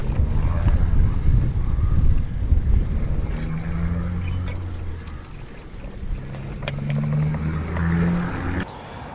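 A headwind roars against the microphone during a bicycle touring ride, loud buffeting gusts that swell and ease with low rumbling, and no one talking.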